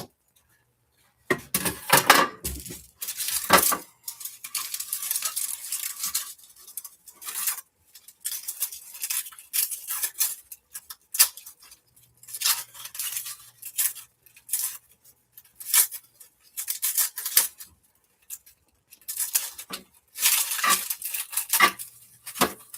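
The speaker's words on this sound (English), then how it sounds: "I'm going to cut up my onion." A knife chops an onion for potato salad, giving bursts of sharp cutting clicks and taps against a board, irregular and close, separated by short pauses.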